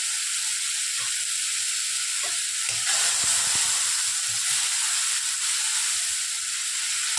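Chopped green chillies sizzling loudly and steadily in hot oil, a dense continuous hiss that swells briefly as they hit the pan, with faint stirring knocks underneath and no voices.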